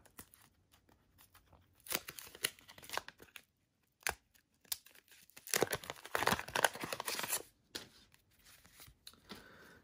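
A repacked wax pack of MLB baseball cards is torn open up close with bursts of crinkling and ripping wrapper, broken by short pauses and ending in quieter rustles.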